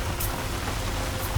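Steady rain falls during a warm, wet Illinois gun season, a dense close patter of drops hitting surfaces with no voices heard.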